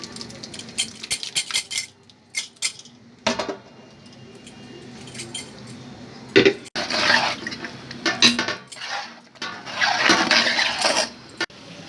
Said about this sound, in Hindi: ये पानी बॉईल इसमें ऐड करेंगे।